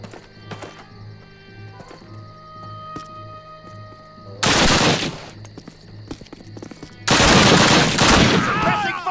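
Gunfire in the video game Call of Duty: two loud, sustained bursts of rapid machine-gun fire, each lasting a couple of seconds, break out over quieter background noise and scattered distant thuds.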